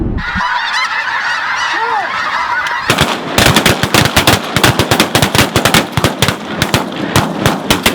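A large flock of snow geese honks loudly and continuously while spinning down over decoys during a hunt, then a rapid series of sharp shotgun blasts cuts in and dominates.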